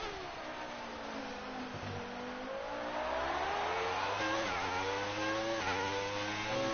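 Formula 1 car engine from the F1 2019 racing game screaming at maximum revs during a qualifying-style lap, a steady loud whine with pitch climbing and shifting through gear changes, no talking.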